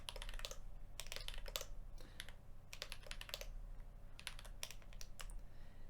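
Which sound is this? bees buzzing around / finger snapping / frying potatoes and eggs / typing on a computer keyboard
typing on a computer keyboard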